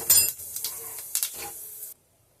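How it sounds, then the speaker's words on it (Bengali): Half a spoon of cumin seeds dropped into hot oil in a pan for tempering, a bright close sizzle with a few clinks of a spoon stirring, cutting off abruptly after about two seconds. "এবার ফোড়নে দেব জিরে, 1/2 চামচ জিরে ফোড়ন দিলাম।"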